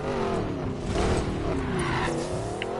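A Koenigsegg Regera supercar in Need for Speed Payback slides through a handbrake turn, its engine roaring loudly under a continuous screeching tire skid that holds for the whole moment.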